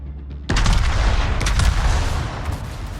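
Warship guns fire in the World of Warships video game: an abrupt heavy boom opens a dense, rolling barrage of overlapping blasts that stays loud and sustained throughout.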